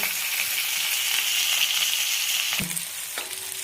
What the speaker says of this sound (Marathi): चालू फ्राय करून घ्यायचं आपल्याला तर दोन दोन पीस टाकते मी